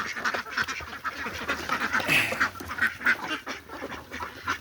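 Many ducks quack busily and continuously as they feed close by, with overlapping rapid calls that rise and fall.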